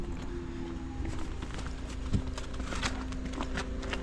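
Cows' hooves walking on ice, a string of irregular hard knocks and scuffs, fairly faint, with no voices.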